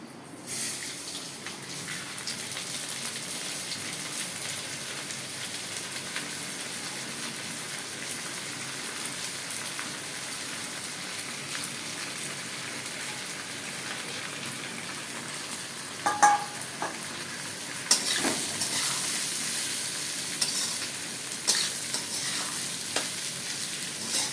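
Rice and lentils fry in a hot pan with oil and tempered spices for khichuri, giving a steady, close sizzle with scraping stirring sounds and a few louder clinks toward the end.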